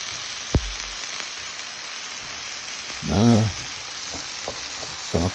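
Hot peppers sizzling on a griddle for a chopped cheese, a soft continuous fry with a sharp tap near the start, a louder burst of scraping chops midway and more knocks at the end.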